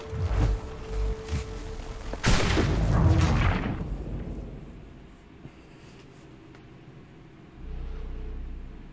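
Heavy booms of cannon fire in the video game Assassin's Creed III erupt in a loud burst, then fade into rumbling and quieter background noise.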